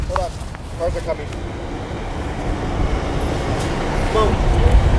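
Street traffic with cars passing, a loud, steady rumbling roar that swells toward the end, heard outdoors with voices in the background.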